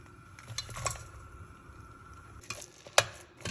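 A chana dal and jaggery mixture is stirred in a pan, with soft scraping and a few sharper clinks of the spoon against the metal over a faint, steady background hiss.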